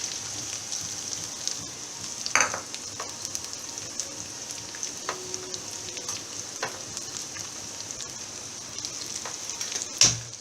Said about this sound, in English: Saute the onions well.